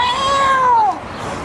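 A storyteller's voice imitates an angry, soaking-wet cat with a single drawn-out meow that wavers and bends downward before cutting off, loud and close.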